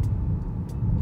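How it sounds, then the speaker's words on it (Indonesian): Low tire and road rumble heard from inside a Kia Seltos SUV cabin while driving, a steady muffled drone with no voices. "Suara ban itu masih sedikit terdengar."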